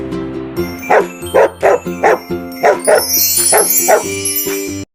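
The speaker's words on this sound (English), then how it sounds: "Can he get a dog?" A dog barks repeatedly in short, evenly spaced bursts over a steady musical background, with a few higher yips toward the end.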